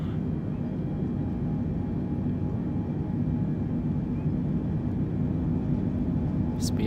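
Boeing 747 jet engines on a takeoff roll in a flight simulator game, a steady loud roar and rumble with a faint whine above it, constant and unbroken.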